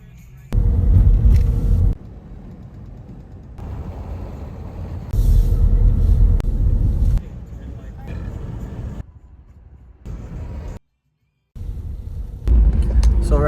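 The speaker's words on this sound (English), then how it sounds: "right now I'm driving down this, it's called Old Highway 105, and it's just like dirt roads" Car driving along Old Highway 105, a dirt road in Linville Gorge, heard as low rumbling road and engine noise that swells and drops in uneven stretches, with a brief cut to near silence.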